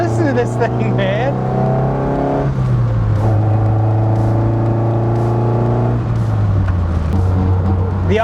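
An SR20-swapped Datsun 510 Nissan Bluebird engine revving up and settling in loud, close rises and falls, a buzzy four-cylinder drone stepping through pitch changes across several blips.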